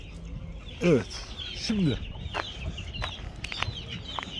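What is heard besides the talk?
chick cheeping in a coop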